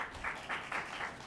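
Audience applause at a city council candidate forum, faint and distant, with four soft pulses of clapping spaced evenly across a quiet room.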